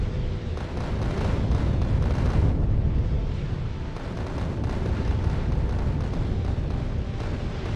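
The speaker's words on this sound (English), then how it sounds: "just watching the asteroids get blown up by your rockets and guns" In Factorio, asteroids are blown up by rockets and guns, producing dense, continuous rumbling explosions and bursts that stay loud and steady throughout.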